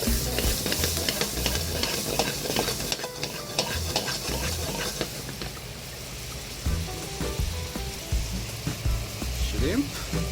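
Shrimp stir-frying over high flame in butter with garlic and hot chili pepper, a steady close sizzle and hiss with scraping stirs throughout, loud at first and easing slightly midway.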